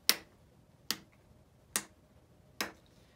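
A hand drum struck four times at a steady, slow pulse, each beat a sharp dry tap that fades quickly, played alone and fairly quietly as a song introduction.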